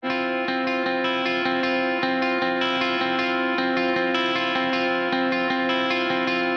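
A recorded electric guitar track with effects, playing steady sustained chords and picked notes at an even, loud level with a chorus-like shimmer and no talking.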